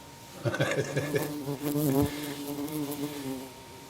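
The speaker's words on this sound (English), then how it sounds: "Big old bumblebee." A big bumblebee buzzes close by outdoors on a sunny day near a wood-turning workshop, its wingbeat drone rising and wavering for a couple of seconds before fading into a steadier hum.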